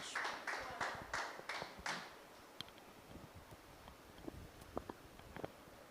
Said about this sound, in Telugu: ఒకసారి గట్టిగా చప్పట్లు కొడుతూ ప్రభు నామను మహింప